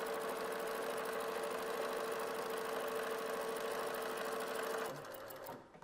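An industrial Dürkopp Adler 550-5-5-2 sewing machine runs steadily at close range while stitching a waistband, its fast even buzz holding for about five seconds before winding down into quieter mechanical clicks.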